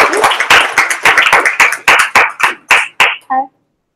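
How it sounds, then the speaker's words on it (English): Audience clapping after a closing talk on accessibility, heard as a dozen loud, irregular sharp claps that stop abruptly near the end, with a brief voice at the finish. "now you can clap."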